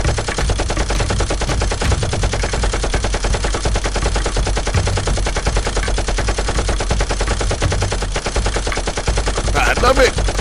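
Toy foam-dart blasters fire in rapid bursts during a mock fight, a dense continuous clatter of shots over steady background noise, with a brief voice near the end.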